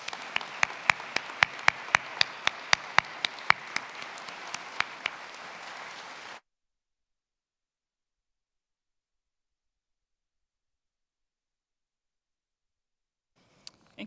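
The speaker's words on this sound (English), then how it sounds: "Let's have a final round of applause for all of our graduates" Applause for graduates at a university social science commencement ceremony, a brisk burst of clapping that runs for about six seconds and then cuts off to silence, with a few faint sounds near the end.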